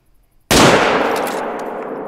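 A single loud rifle shot fired at a gemsbok in theHunter: Call of the Wild, a sharp close crack after near silence, followed by a long rumbling echo that slowly fades.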